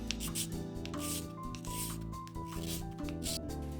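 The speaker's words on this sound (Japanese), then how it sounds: "下の方が引っかかりそうだったので、平らになるまで削ってしまいます" Repeated rasping scrapes of a blade or file flattening the underside of a small plastic mono-eye part for a Zaku head model, close and steady in short strokes, heard under continuous background music.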